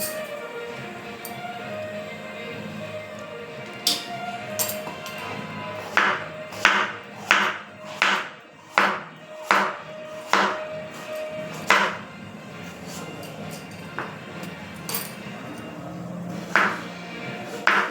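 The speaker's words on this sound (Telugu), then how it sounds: "దోసకాయ ముక్కలు సన్నగా కోసుకున్నాం అనుకోండి బాగుంటుంది కర్రీ బాగుంటుంది" A knife slices cucumber into thin pieces, a run of sharp, close chopping taps in an uneven rhythm, densest in the middle and trailing off into sparse single cuts.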